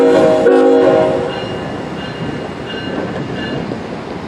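Norfolk Southern freight train led by GE locomotives, an ET44AC and a C44-9W, rolling past nearby with a loud horn blast at the start, followed by steady rumbling wheel and railcar noise.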